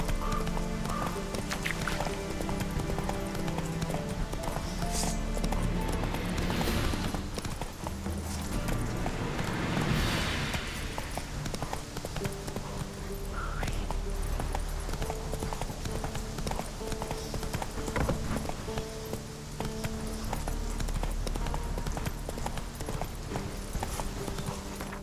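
A horse gallops in The Witcher 3 video game, with continuous rhythmic hoofbeats throughout, loud and close, over the game's ambient sound.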